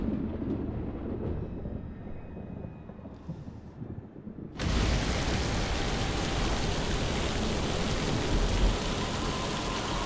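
Rain bursts in suddenly in a TV drama scene: after quiet dialogue-level ambience, a dense, loud, steady downpour hiss takes over and continues unbroken.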